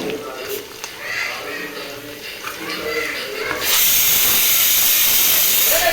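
Chicken pieces frying in a pan for chilli chicken give a hissing sizzle. It starts muffled under faint background sound, then turns into a loud, steady roar of oil for the last few seconds.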